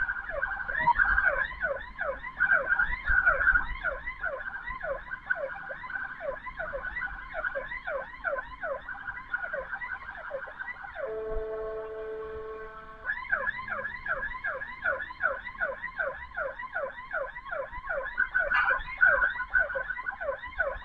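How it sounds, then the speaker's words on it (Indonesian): A PMI ambulance siren wails in a rapid, steady yelp cycle on a street where an accident occurred, loud and close, briefly shifting to a held steady tone midway before the yelping resumes, no voices. "Ambulan PMI kiri layar"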